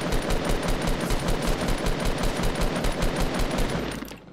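Steady rapid automatic gunfire in the video game Fortnite Battle Royale, a loud even rattle of evenly spaced shots that runs unbroken and cuts off just before the end.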